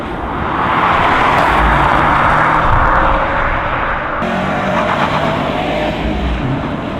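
A Subaru STI Type RA with a Magnaflow catback exhaust roars past on a closed course, its loud engine and exhaust note swelling and then holding a sustained drone as the car passes close by.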